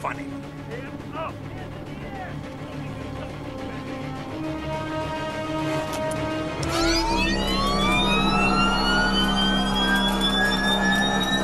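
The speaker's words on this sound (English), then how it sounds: "hit him with their own police siren" A police siren in the video game Injustice: Gods Among Us starts up amid game sound effects and swells into a loud rising wail, with a player talking over it.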